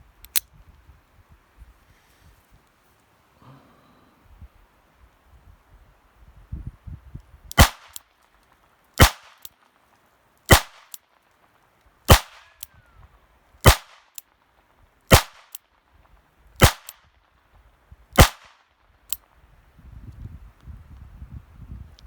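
A Smith & Wesson Model 63 .22 LR revolver fires eight sharp, close shots in an even, unhurried rhythm roughly one and a half seconds apart, with faint outdoor handling rustle before and after.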